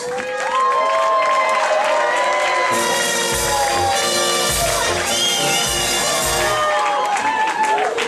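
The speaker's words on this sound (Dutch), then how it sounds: "Geef ze een grandioos applaus!" A crowd at a regional clog-throwing championship in Limburg applauds and cheers, with whoops and shouts over music, loud and sustained throughout.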